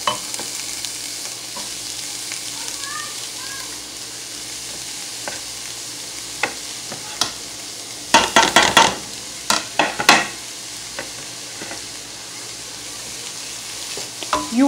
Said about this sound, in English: fry it without the spices first